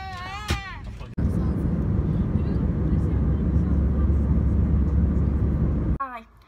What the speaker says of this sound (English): We're finally on the plane, but I bet it'll take ages now for it to take off, and I bet you will be taxiing round